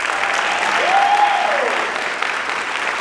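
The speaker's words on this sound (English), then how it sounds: "Let us give one more round of applause." An audience applauds at a high school wind ensemble spring concert, a steady wash of many hands clapping at moderate distance, with a brief voice rising over it partway through.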